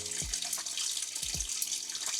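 Water running out of a home heating radiator into a container, a steady splashing gurgle with a couple of low thuds, close and alone.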